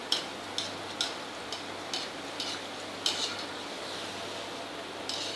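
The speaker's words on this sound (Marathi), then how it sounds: "हे असे हलवत राहायचे शंकरपाळे, म्हणजे एकाच साईडला लाल होणार नाही, सगळीकडे सारखे लाल होतील" Shankarpali pieces being turned and stirred in hot oil, with light metallic clinks of a utensil against the pan every half second or so over a steady soft frying hiss, close by.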